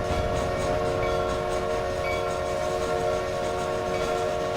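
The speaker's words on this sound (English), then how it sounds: "That's not the right whistle signal." Video game train, steady and loud: a sustained whistle tone over constant rumbling rail noise and wheel clatter, holding throughout with no pauses.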